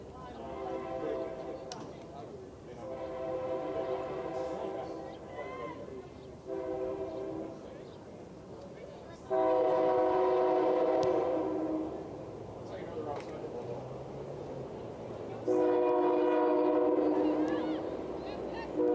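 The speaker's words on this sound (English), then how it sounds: "Multiple trains in the background simultaneously as the Metro train zooms past a freight train." Train horns blare repeatedly as a Metro train passes a freight train near a soccer field, loud sustained honks in several bursts over a steady rumble of rail traffic, with a commentator talking throughout.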